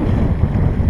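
A sailboat makes way along the Dutch coast in rough, choppy water, with a dense roar of wind buffeting and rushing water that stays loud and steady throughout this short moment.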